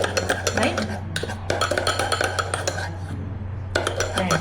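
A spoon clinks and scrapes inside a cup as a drink is stirred, in quick, loud, close bursts of rapid metallic tapping separated by brief pauses.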